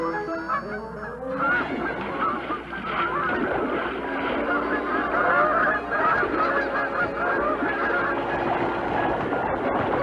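Many hybrid Canada goose and snow goose ganders guarding closely packed nests in a colony, honking in a dense, continuous clamor of overlapping calls, loud and sustained throughout with no speech standing out.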